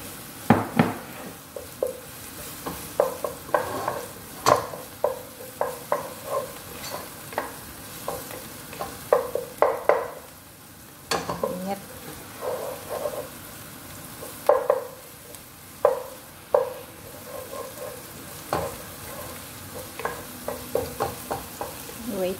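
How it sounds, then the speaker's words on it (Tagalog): Garlic sizzles steadily in a pan while a spatula scrapes and stirs it in frequent irregular strokes, close and clear, with faint talk in the background. "Wait natin until mag-golden brown din yung bawang."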